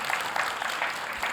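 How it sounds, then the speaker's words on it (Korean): A church congregation applauds during a sermon, a soft, steady patter of many hands clapping at a distance, unbroken for the whole moment. "이 박수를 꼭 전달하세요."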